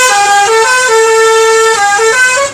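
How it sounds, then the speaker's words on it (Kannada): A truck on a used-truck sales lot sounds its horn in one loud, sustained blast that wavers slightly in pitch, close up, with no other sound around it. "ಹಾರ್ನ್ ನೋಡಿದ್ರಾ?"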